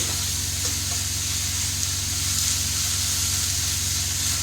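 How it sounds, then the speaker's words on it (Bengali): Onions fry in a pan while being browned for a Bengali egg curry, producing a constant, even sizzling hiss with a faint low hum beneath and no talk. "এইটা একটু টাইম লাগে পেঁয়াজগুলো ঠিক করে ভাজতে।"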